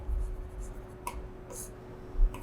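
A pen scratches on paper while writing out accounting figures, producing faint, short intermittent strokes close by over a quiet background hum.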